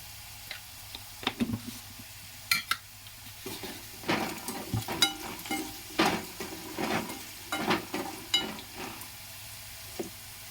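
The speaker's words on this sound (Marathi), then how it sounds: "आता हा बटाटा पूर्णपणे असा थोडा शिजू द्यायचा" Salted potatoes cook in a pan on a home stove, with a faint steady sizzle under repeated scraping and stirring clinks from a utensil against the pan. No one talks.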